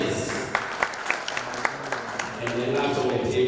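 An audience at a formal luncheon gives a moderate round of clapping for guests being introduced, scattered hand claps rising and continuing at a steady level in a room, with faint talk underneath.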